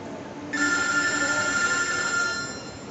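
A telephone rings with a steady, shrill electronic trill that starts after a moment of background hiss, lasts a couple of seconds, then fades.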